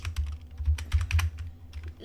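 Rapid keystrokes on a computer keyboard during web coding work, a close, steady patter of clicks with uneven rhythm and brief pauses, no talk.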